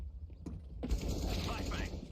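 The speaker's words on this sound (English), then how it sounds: "Deploying flashbang." A flashbang grenade is deployed in the video game CS:GO, a mechanical clatter followed by a loud, harsh burst and a sustained noisy ring filling the rest of the moment, up close and dense.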